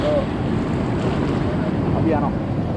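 Sea waves at Mirissa beach, Sri Lanka, roll in as a steady, continuous surf rush mixed with wind buffeting the microphone, with faint voices in the background.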